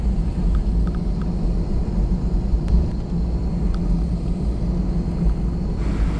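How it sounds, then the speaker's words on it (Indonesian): An airliner taxis before takeoff at I Gusti Ngurah Rai airport in Bali, heard from inside the cabin as a steady low engine rumble with faint clicks and rattles throughout. "Pesawat sudah bergerak dan sebentar lagi kita akan take off."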